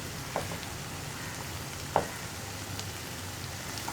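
Beaten egg fries in a hot pan for kothu chapathi and is stirred gently, giving a steady broadband sizzle with one sharp utensil clack partway through; no one speaks.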